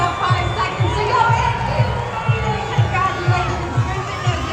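A crowd murmurs and cheers at a UCLA basketball game, with steady rhythmic thumps beating under the noise of the arena and voices carrying across it.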